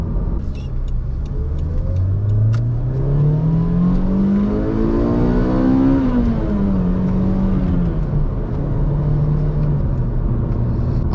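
A Toyota Corolla XRS engine climbs steadily in pitch as it revs hard toward redline, then drops with a gear shift and settles into a lower drone. The sound is loud and continuous, with no talking.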